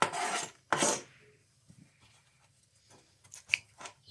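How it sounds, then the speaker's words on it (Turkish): Pumpkin seeds and pulp scraped out of a halved pumpkin with a spoon, two loud rasping strokes at the start followed by quieter intermittent scrapes and clicks close by. "Evet şimdi çekirdeklerini ayıklıyoruz kabağımızın."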